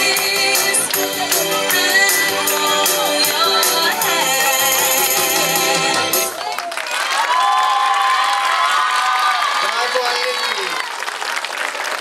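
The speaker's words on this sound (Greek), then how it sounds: "Χειροκρότημα φυσικά." A primary school audience at a talent show applauds and cheers loudly for about six seconds, with children shouting, before music takes over and the crowd noise drops away.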